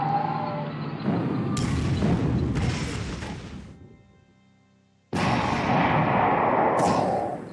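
Heavy booms of artillery fire in a World War II tank strategy game, long rumbling blasts that swell, fade out, then return loud and sustained.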